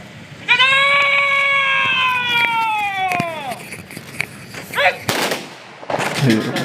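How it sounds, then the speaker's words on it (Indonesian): A long, sustained horn-like tone fades out, followed by sharp, loud gunshot reports of a military rifle volley salute at a state funeral in Indonesia. "Tadi adalah lepasan tembakan dilakukan oleh TNI sebagai tanda melepaskan kepergian salah satu tokoh bangsa, Sabam Sirait."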